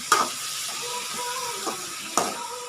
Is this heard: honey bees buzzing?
no